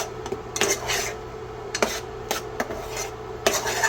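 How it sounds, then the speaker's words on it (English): A fajita steak mixture seasoned with black pepper is stirred in a pan, giving intermittent scraping and clinking strokes of a utensil against cookware over a steady low background, fairly close and moderately loud, with no voices. "And then I'm going to give this a stir."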